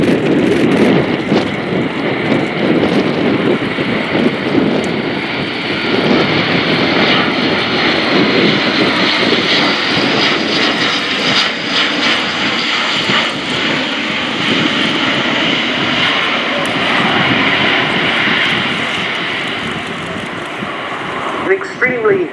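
Airbus A400M Atlas military transport aircraft flies a display at RIAT 2018, its turboprop engines producing a loud, sustained roar with wind buffeting throughout, while an announcer talks over it.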